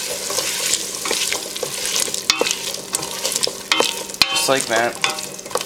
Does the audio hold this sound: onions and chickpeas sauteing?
yes